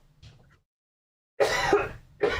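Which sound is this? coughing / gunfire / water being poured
coughing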